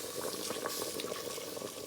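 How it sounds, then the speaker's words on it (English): Water poured into a pot of oxtail for stew or soup, a close, steady liquid rush with bubbling and no talking. "So I'm gonna put a little bit of water"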